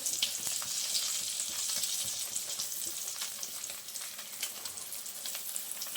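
An egg omelette with potato fries in a pan after being flipped with two spatulas, giving a steady, fairly quiet crackling sizzle with small spits and pops throughout.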